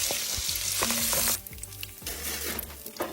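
Pancetta and sausage fry in a pan, a dense loud sizzle that suddenly drops lower partway through, leaving a softer crackle with occasional stirring knocks.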